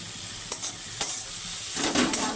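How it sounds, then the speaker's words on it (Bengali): Chilli paste and onion sizzle in hot oil for a Bhola fish curry, with sharp spoon scrapes against the pan every half second or so over a constant fry. "মশলাটা কষিয়ে নেব।"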